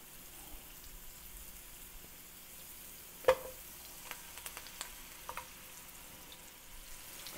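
Meatballs for Italian wedding soup frying in a pan, giving a faint, steady sizzle with a few scattered sharp pops and crackles.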